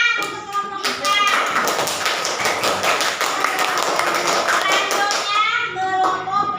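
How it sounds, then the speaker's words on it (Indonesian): Classroom group applause for a student team in a school lesson, brisk clapping from many hands with children's voices mixing in, fairly near and continuous before tapering off at the end. "Tepuk tangan untuk kelompok 4."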